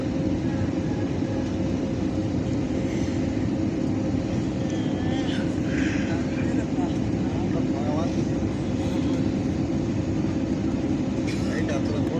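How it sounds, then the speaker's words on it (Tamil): An airliner descending to land in Thailand fills the cabin with a steady, loud engine roar and airflow hum, unbroken for the whole stretch, with faint voices and small clicks in the background. "ஃப்ளைட்டு கீழே இறங்கிட்டு இருக்குது"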